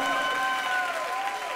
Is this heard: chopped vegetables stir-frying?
no